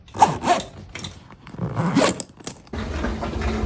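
A bag zipper is pulled open or shut in several quick, rasping bursts close by, with a brief jingle of keys and some rustling partway through. A steadier, low rumbling background takes over near the end. No one speaks.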